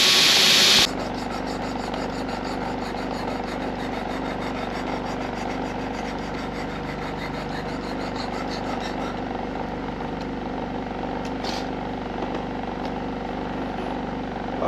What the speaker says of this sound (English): we're going to put it on the work sharp